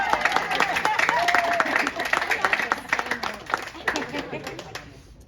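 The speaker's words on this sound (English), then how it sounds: "I know you all want to applaud, so" Wedding guests clap right after the couple's vows, close and lively, the applause thinning out toward the end while voices and a few cheers come through.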